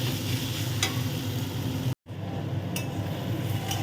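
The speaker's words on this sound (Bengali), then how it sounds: "আর একটু ভালো করে নাড়াচাড়া করে রাখলেই মোটামুটি আমার আলু পেঁয়াজ ভাজা রেডি হবে" Potato and onion fry in a pan while being stirred, a steady close sizzle broken by a brief cut and occasional scraping clinks of the spoon.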